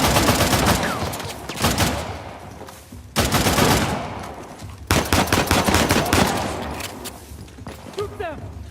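Rapid bursts of gunfire in the action game Uncharted: The Lost Legacy, loud and sustained in repeated volleys with brief gaps, mixed with voices in the background.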